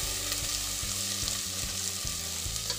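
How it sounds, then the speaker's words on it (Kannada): Onions frying in a pan for spinach sambar, a dense, steady sizzle heard up close with soft stirring knocks underneath. "ಇವಾಗ ನೋಡಿ, ಈರುಳ್ಳಿ ಫ್ರೈ ಆದರೆ ಸಾಕಾಗುತ್ತೆ"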